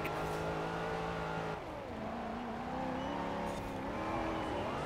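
A race car on race tires tears off-road in the Forza Horizon 4 racing game, its engine droning loudly and steadily, the pitch dropping and climbing as it shifts and revs, with no talk.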